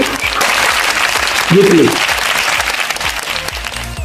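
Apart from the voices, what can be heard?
loud applause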